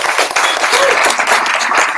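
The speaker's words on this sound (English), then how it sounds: "Round of applause for Yudi and Marcus." An audience at a UX apprenticeship event at Google SF applauds for two presenters, a brief burst of dense, loud, close clapping that stays steady throughout.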